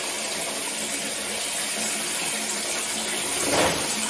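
Hot water runs steadily from a newly fitted system as a pump hums beneath it, a constant wash with a short louder surge near the end and no talking.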